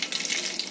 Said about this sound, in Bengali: তেলটা গরম হয়ে গেছে, একটুখানি জিরে দিয়ে দিলাম, দিয়ে দিলাম দুটো শুকনো লঙ্কা